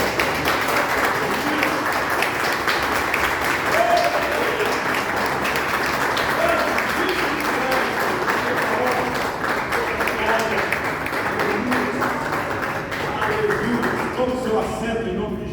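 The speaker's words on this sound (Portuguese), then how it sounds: "Você pode glorificar a Deus com suas palmas bem fortes." A church congregation claps loudly and continuously for a long stretch, a dense, even wash of applause with faint voices underneath, tapering slightly at the very end.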